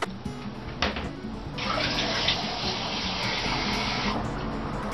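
Room temperature water running from a tap, a steady hissing rush that starts after a brief clunk and continues loud and close, ending abruptly near the end.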